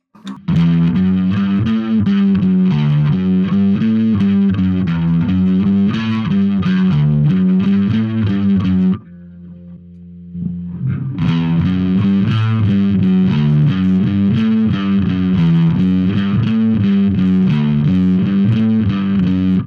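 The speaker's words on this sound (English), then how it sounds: "I will combine the overdrive with the chorus" Distorted bass guitar through overdrive and a Boss OC3 shimmering chorus plays a steady riff, drops out briefly to a quiet hum, then resumes just as loud.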